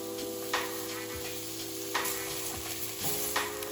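Diced onions with a pinch of salt and red capsicum chunks sizzle gently in a pan, a steady soft frying hiss with a few faint clinks and stirring scrapes, no talking.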